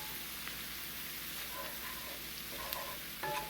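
Four chopped garlic cloves sizzle in a hot pan, a steady, soft crackling hiss with faint scattered pops, fairly quiet and with no voices.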